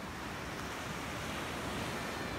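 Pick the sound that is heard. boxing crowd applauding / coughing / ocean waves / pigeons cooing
ocean waves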